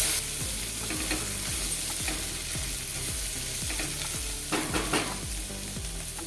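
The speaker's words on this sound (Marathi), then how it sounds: "हे थोडंसं परतून घ्यायचं." Carrots, cauliflower and peas stir-fried in a pan for Maharashtrian masala rice, a steady loud sizzle with a spatula scraping in a regular rhythm, close up and with no talk.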